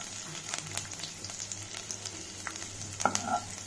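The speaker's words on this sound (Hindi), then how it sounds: "अब मैं इसमें डालूंगी बारीक काट के रखा हुआ लहसुन।" Finely chopped garlic dropped into hot oil, giving a steady low sizzle and crackle with a few sharper pops and a brief stir toward the end, close up with no talking.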